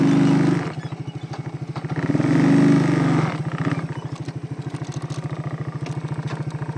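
A 1992 Suzuki Quad Runner 300 ATV engine idling with a rapid, even low thump, swelling briefly twice as the throttle rises, then settling back to a steady close putter.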